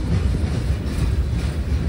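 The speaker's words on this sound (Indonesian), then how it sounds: "Kereta barang lintas utara itu biasanya peti kemas, terus ini buat ini bawa gas apa ya yang tabung ini bentuknya bulat ini." A long freight train on Indonesia's northern line, hauling shipping containers and round gas tank wagons, rumbles past close by as a steady, loud low roar with no talking.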